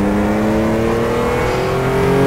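Race car engine from the racing sim RACE 07, a GRT Evo on a hill-climb course, droning steadily at high revs with its pitch slowly climbing, loud and unbroken with no other sounds.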